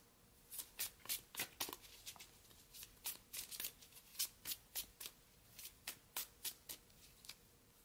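Tarot cards are shuffled by hand in quick, crisp riffling bursts, repeated in an irregular rhythm, close and fairly quiet with no talk.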